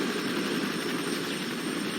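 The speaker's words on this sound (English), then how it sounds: "Helicopter?" A helicopter in the video game Fear 3, a steady, dense rotor-and-engine roar holding at even loudness throughout, with no talking.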